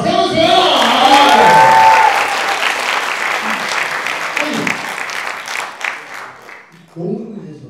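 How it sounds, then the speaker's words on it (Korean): Loud studio-audience applause on a Korean talk show, with a sharp whistle near the start. The clapping swells, then fades into scattered claps, and a voice comes in near the end. "박수"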